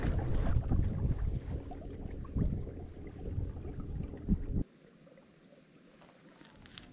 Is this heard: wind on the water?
yes